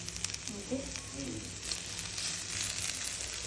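Food frying in hot oil in a home kitchen, a steady close sizzle with crackling and faint stirring, no speech.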